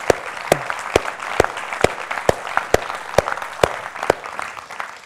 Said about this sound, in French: Je crois qu'on peut les applaudir vraiment.